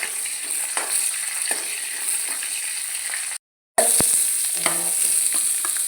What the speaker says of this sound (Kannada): ಸ್ವಲ್ಪ ಫ್ರೈ ಆಗಲಿ.